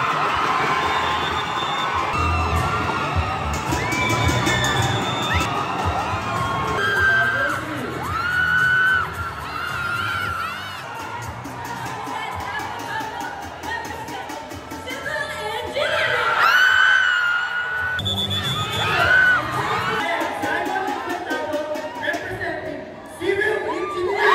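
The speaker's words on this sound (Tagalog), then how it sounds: "sobrang nakakabingi yung sigawan" A huge crowd at a college production number at Pamantasan ng Lungsod ng Maynila in Manila screams and cheers nonstop in a deafening, echoing wash, with high whoops and yells and occasional bangs piercing through.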